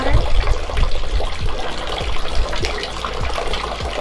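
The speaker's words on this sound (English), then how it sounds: "You fill up the wooden spoon with the water from the spout, cleanse one hand, cleanse the other hand" Water poured from a wooden ladle splashes and trickles at a Japanese shrine purification fountain, a steady near splash with small dribbles and spills continuing throughout.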